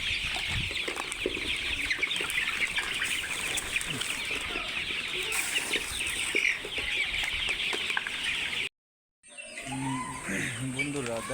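Sonali chickens on a poultry farm waiting to be fed, producing a dense, continuous chorus of close clucking and squawks with a few wing flaps, briefly cut off near the end, with voices faintly present.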